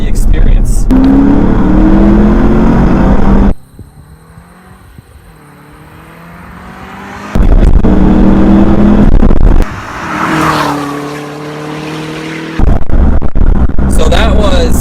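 A 2011 Cadillac CTS-V Coupe accelerates hard through the gears, its engine roaring loudly and rising in pitch with each gear, broken by quieter gaps at the shifts, and a person talks over parts of it.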